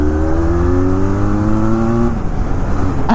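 Benelli 502C motorcycle engine revving hard while riding, a loud, close, rising drone that climbs in pitch for about two seconds and then drops off as the throttle closes, with rushing wind throughout.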